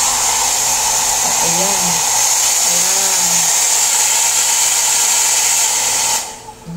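A compact hair blower dryer runs loud and steady at close range with a constant whooshing roar, then cuts off near the end; someone speaks briefly over it.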